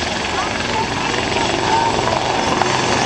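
A helicopter's steady rotor chop fills the air at the Culdrose air day, loud and continuous throughout, with a constant engine drone.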